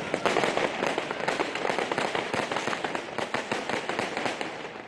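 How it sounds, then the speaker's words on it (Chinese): Fireworks and firecrackers burst continuously at night during street riots in Nanterre, west of Paris, a dense, crackling barrage of rapid pops and bangs heard from a distance. "抗议者29号晚继续在街道上大肆纵火，并不断向夜空发射烟花弹， 现场爆炸声隆隆"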